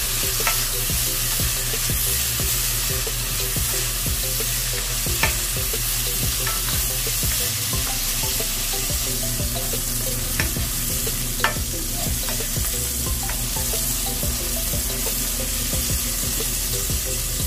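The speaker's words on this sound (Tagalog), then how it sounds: "Lalagay na natin dito para magisa na natin." Tomatoes sautéing in a pan for a sardine stew, a steady close sizzle running throughout with scattered stirring clinks and scrapes, no voices.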